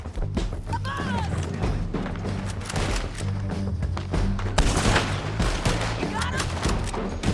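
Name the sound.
gunfire in the video game Red Dead Redemption 2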